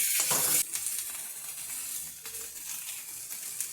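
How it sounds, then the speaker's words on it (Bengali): Cumin and red chilli frying in oil in a kadai, giving a steady close sizzle and hiss with a louder burst at the start, then settling into a continuous crackle with no voices. "কড়াইতে দিয়ে দিয়েছি জিরে আর লাল লঙ্কা।"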